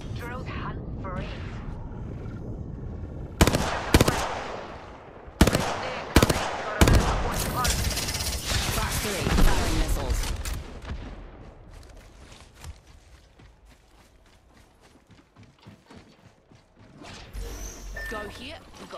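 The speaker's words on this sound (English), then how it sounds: "Open and fire, Kamatara." Gunfire in the Apex Legends battle royale video game, with loud rapid automatic bursts and sharp single shots in the first half, fading into quieter game ambience later, with a voice talking over it.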